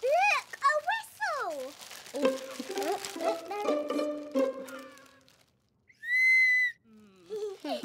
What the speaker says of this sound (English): Look, a whistle!